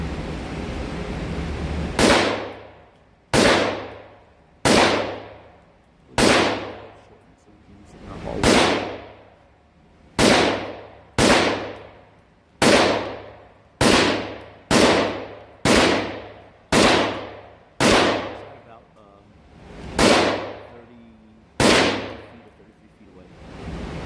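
Gunfire from a PS90 rifle at a shooting range: about sixteen sharp, loud reports spread unevenly over the span, each ringing out into a decaying echo before the next.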